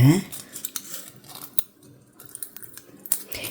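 Scissors snipping through cardboard to make a grip for a loose pressure cooker handle, a few sharp close cuts spaced irregularly with light rustling between them.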